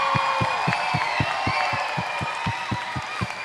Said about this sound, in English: keep clapping till he comes